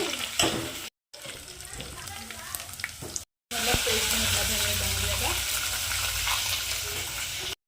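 Garlic and garam masala sizzle and fry in hot oil while being stirred, a steady dense crackle that runs nearly throughout, broken by two short silent gaps, with a voice talking over it.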